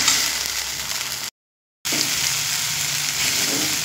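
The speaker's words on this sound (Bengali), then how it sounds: "দিয়ে দেব কালারের জন্য হলুদ, দিয়ে মশলাটা খুব সুন্দর করে কষিয়ে নেব" Spice paste with turmeric sizzles steadily in oil, close and continuous, broken by one short silent gap midway, while it is sautéed before mashed potato is added for raw mango chops.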